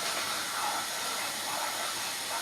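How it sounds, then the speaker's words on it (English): Sauce for a sausage and apple casserole coming to the boil in a pan on the stove, a steady close hiss of bubbling and steam with no speech. "It's beginning to boil."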